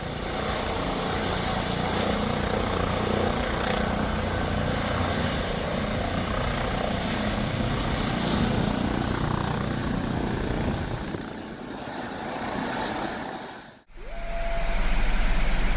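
A helicopter sets down with its rotor blades turning, a loud, continuous roaring whine and rotor thrum that holds steady, dips briefly, then cuts off abruptly into a different low hum.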